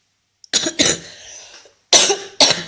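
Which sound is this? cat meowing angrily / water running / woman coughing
woman coughing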